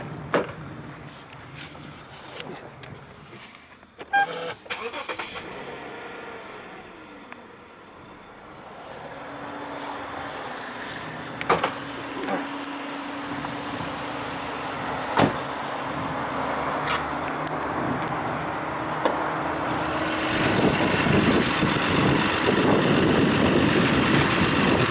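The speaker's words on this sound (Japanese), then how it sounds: "エンジンをかけてみます。" A black 2006 Toyota Crown Athlete 2.5 with a 4GR-FSE V6 starts up. Early clicks and a brief crank give way to a steady low idle hum that grows fuller and louder toward the end, with no voices.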